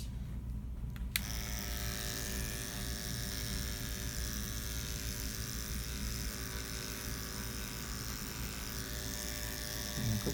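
Electric clippers buzz steadily and close by while shaving a dog's foreleg before a cephalic IV catheter is placed at a veterinary clinic, a continuous hum that starts after a second and runs unbroken to the end.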